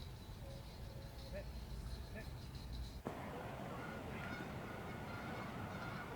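A startled bird, likely a goose, honks a few faint times in the distance over steady outdoor noise and a passing vehicle's hum, followed by a brief sharp knock.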